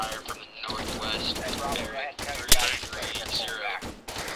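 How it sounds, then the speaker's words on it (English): Gunfire in a military video game crackles in rapid bursts and a sharp single report, mixed under steady voices talking over team chat. "I'm taking direct fire from the northwest."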